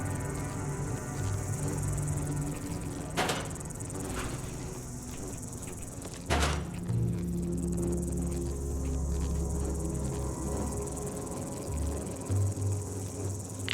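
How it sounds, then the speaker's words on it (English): Insects buzz and chirp steadily in the Fallout 76 game world, a constant droning chorus over a low hum with a few sharp clicks, carrying on with no voices. "I hate the buzzing."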